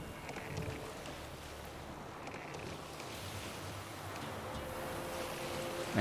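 A boat sails across open water in The Witcher 3, with a steady wash of wind and water rushing and a faint creak, mid-distance, with no talking.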